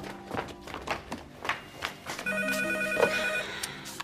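A telephone bell rings in a room, a bright sustained ring starting midway and lasting over a second, preceded by footsteps and light tapping as someone approaches.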